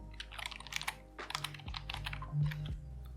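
Someone types a password on a computer keyboard in quick clustered bursts of crisp key clicks, close and clear over a faint steady electrical hum, with no speech.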